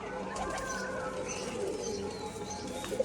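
Rajshahi pigeons coo softly close by, low burbling calls over a faint busy background, with a small sharp knock near the end.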